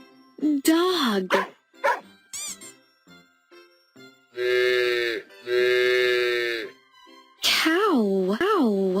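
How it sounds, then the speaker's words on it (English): A dog barks in an animal-sounds lesson for children, giving loud, sharp yelps and barks in bursts, with a longer drawn-out howl in the middle and a voice speaking between them. "Dog."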